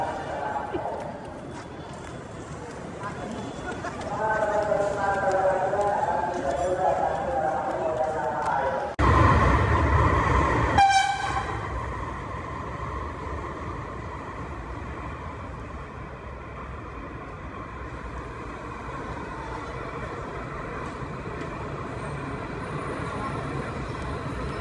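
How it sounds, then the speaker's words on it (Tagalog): An LRT light rail train rumbles and rattles along nearby in Manila, with a brief loud burst midway, while people talk over the steady rolling noise. "Oo, sa LRT. Ito yung bagong gawa."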